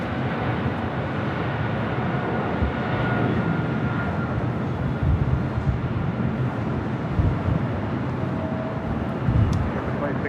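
A Boeing 777 jet taxiing at LAX makes a steady, loud engine rumble and whine that fills the whole stretch, with someone talking over it.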